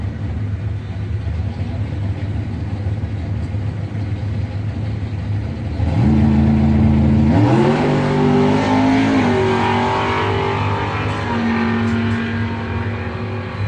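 The Mopar 546 GTX doorslammer drag car makes its run at NMD, a loud engine rumble that breaks into a sharp rising rev midway and then sustains a strong roar.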